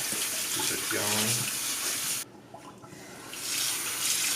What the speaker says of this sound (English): run water over your potatoes like this into a bowl and get clean water